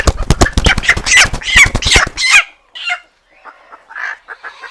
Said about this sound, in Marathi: ही समजा कोंबडी आहे तर ही कोंबडी खूड आहे